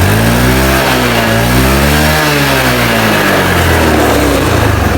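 Loud, close motorcycle engine revs up and down with rising and falling pitch during a battery charging check on a carbureted Honda Beat, running continuously without talk.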